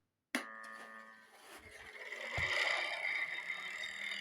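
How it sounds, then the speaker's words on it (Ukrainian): An electric motor powered from a battery through a voltage converter switches on with a sudden click, then runs with a steady tonal hum and whine that grows louder and fuller over a few seconds. "Я вмикаю запуск двигуна через перетворювач від акумулятора."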